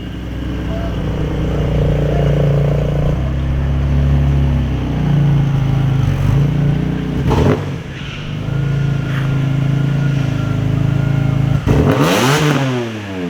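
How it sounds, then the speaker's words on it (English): A Nissan R32 Skyline GT-R fitted with a Greddy full suction kit idles loudly nearby and is revved several times. Its deep, steady engine drone rises and falls, and one sharp rev climbs near the end. "First test drive with the Greddy full suction kit on it."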